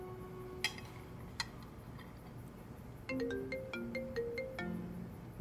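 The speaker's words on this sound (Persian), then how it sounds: "گوشیت داره زنگ میخوره." A mobile phone ringtone plays a quick melodic pattern of bright repeated tones, starting midway after a couple of faint ticks over room background.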